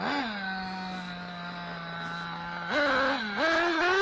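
A nitro RC car engine runs steadily with a buzzing, high-pitched whine, holding one pitch before rising in two quick revs near the end, close and loud.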